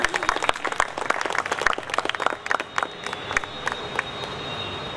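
Dense audience applause for a guest stepping onto a stage, many hands clapping rapidly and steadily for several seconds before thinning out, fairly close in a hall with no speech over it.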